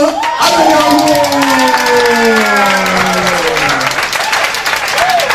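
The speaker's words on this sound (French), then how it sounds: "je vais vous demander de faire vraiment un tonnerre d'applaudissements à ce président" An awards-ceremony audience gives loud, sustained applause for the Toastmaster of the year, a dense continuous roar of clapping with cheers, while a voice sings or calls out over it.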